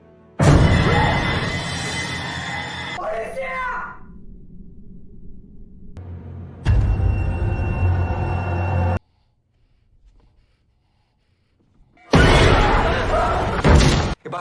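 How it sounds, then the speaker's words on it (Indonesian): A door is banged on very hard in a Venezuelan horror film, with heavy repeated slams that come in loud bursts. The bursts are separated by quieter low rumbling stretches and a near-silent gap. "pintu yang digedor-gedor sangat keras"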